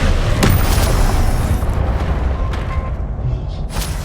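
Confringo fire spells in the video game Hogwarts Legacy burst in loud, booming blasts, with sharp impact cracks repeating over a thick roar of combat noise.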